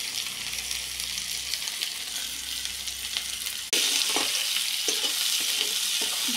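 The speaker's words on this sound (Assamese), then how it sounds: "মই তেল দিছোঁ, পকিলে মই পিঁয়াজ দিছোঁ, আদা নহৰু দি দিছোঁ" Fish frying in oil with onion, ginger and garlic makes a steady close sizzle that turns louder and brighter partway through, with scattered stirring scrapes and no talking.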